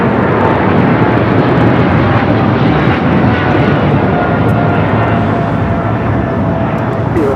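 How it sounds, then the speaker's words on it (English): An EVA Air Cargo Boeing 777 freighter takes off for Taipei with a loud, sustained jet engine roar that fills the whole span, while people talk faintly underneath. "621 taking off to Taipei on the 777 freighter."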